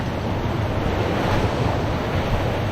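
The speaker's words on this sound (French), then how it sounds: "la rivière est en train vraiment de s'agrandir" A swelling river rushes in a loud, steady broadband roar, mixed with wind buffeting the microphone, continuous and close with no pauses.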